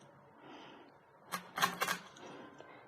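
Knife cutting crispy Cantonese roast pork belly into chunks: three or four sharp crunchy cracks packed close together, close and fairly loud over a quiet kitchen background.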